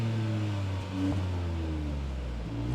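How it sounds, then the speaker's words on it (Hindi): A Hyundai Venue N Line compact SUV, parked and breathing through its dual exhaust, rises in a smooth low rev, dips and then climbs again, moderately loud with a steady engine hum. "अब मैं जरा इसको रेव करता हूँ और आप एग्जॉस्ट नोट सुनिएगा"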